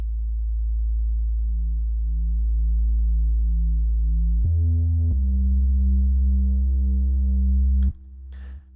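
A sustained low sub bass tone with heavy distortion adding a buzzing stack of harmonics, holding steady and then stepping through a few pitch changes before cutting off near the end.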